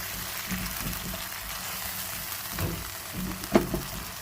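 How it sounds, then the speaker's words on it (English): Onion paste, masala, curry leaves, green chilies and ginger garlic paste fry in oil for a fish gravy, giving a steady low sizzle with a few soft stirring scrapes and one sharper clink near the end. "So it's cooking until little bit oil separate"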